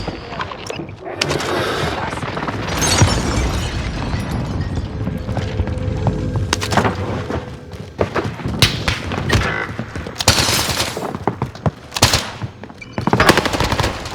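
Gunfire in Call of Duty Warzone crackles in loud bursts of rapid automatic shots with heavy thumps and booms, dense and close, while a voice talks over the action.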